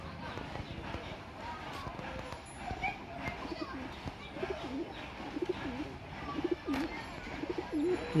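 Giribaz pigeons coo softly in a repeated, low warbling pattern during a sale, faint and close, over a busy background with people talking.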